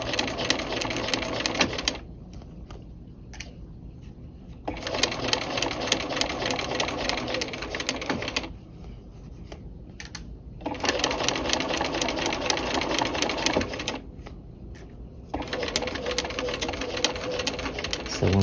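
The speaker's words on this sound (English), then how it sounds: "But we first start by sewing along that stitching line." Sewing machine stitching along the line of a dual flap pocket, running in several steady bursts separated by brief pauses, close and fairly loud with only faint background between runs.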